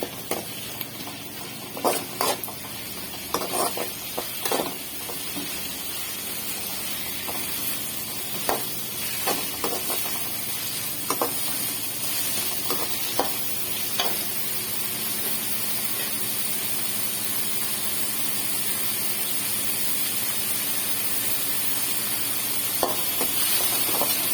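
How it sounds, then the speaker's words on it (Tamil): Prawns sautéing in a pan with softened tomato and onion for a prawn thokku give a steady close sizzle, broken by sharp spatula scrapes and stirring clatters throughout. "சுத்தம் பண்ணி வச்ச இறாவை போட்டுக்கலாம் இறாவை போட்டு கொஞ்சம் நல்லா வதக்கிக்கலாம்"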